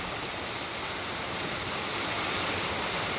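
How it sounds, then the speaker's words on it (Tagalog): Water pours over rocks at a waterfall in Suan Phueng, a steady, full rushing hiss with no pauses or voices, close and constant throughout. "musiko ng tubig. Tubig at bato. Sarap pakinggan."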